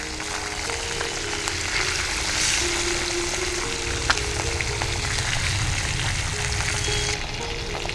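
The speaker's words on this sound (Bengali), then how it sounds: "ট্যাংরা মাছ কিন্তু খুব কড়া করে ভাজবো না।" Tangra fish fry in hot oil in a pan, giving a steady, close crackling sizzle throughout with occasional sharper pops and a light stirring clink.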